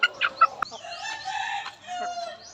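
An eight-month-old Sweater Kelso gamecock, seed stock for a battle cross, gives a few sharp clucks and then a drawn-out crow, fairly close and clear with no talk over it.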